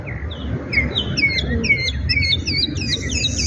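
Small birds in Jamaica chirp sweetly, a quick run of bright, rising tweets repeating over steady low outdoor background rumble, fairly close and clear with no talking.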